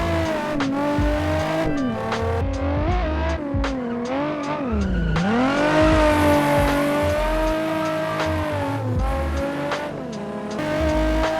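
A drift car in the racing game Assetto Corsa revs hard with continuous screeching tire squeal, the engine pitch dipping and climbing through sustained slides.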